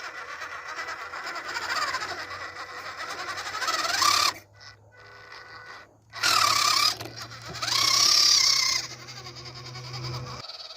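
A small electric motor on a WPL E-1 RC tank whines and buzzes in a steady, high drone, then cuts out and restarts in short surges, close and fairly loud.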